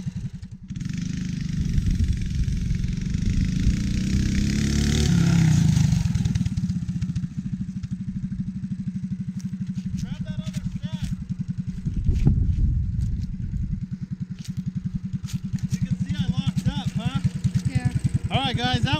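A Coleman CT200U mini bike engine runs close by with a loud, steady putter that rises in a rev around the middle, while a person talks over parts of it.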